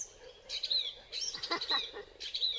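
Small bird chirps sound in quick repeated bursts, faint and high, over a quiet outdoor background.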